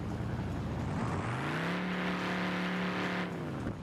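An old American V8 car engine in BeamNG.drive revs up from idle and holds a steady, loud drone with a smooth, slightly whiny tone, then eases off near the end, with no one talking.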